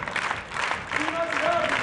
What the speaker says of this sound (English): Give Gary a big round of applause